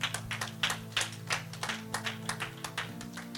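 A church congregation claps in praise of the Lord, a lively run of quick, sharp handclaps in a fairly steady rhythm over a sustained low musical tone, with no voices.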